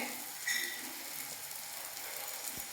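Two eggs sizzle in a hot pan beside okra pushed to one side, a soft steady frying hiss that runs the whole time with a brief brighter burst near the start.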